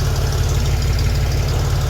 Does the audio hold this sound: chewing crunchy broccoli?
no